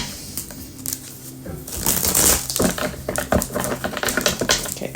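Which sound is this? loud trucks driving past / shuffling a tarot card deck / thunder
shuffling a tarot card deck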